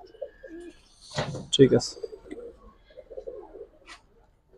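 Giribaz pigeons coo in soft, throaty bursts close by, with a louder cooing phrase in the middle, while people talk briefly over and between the calls.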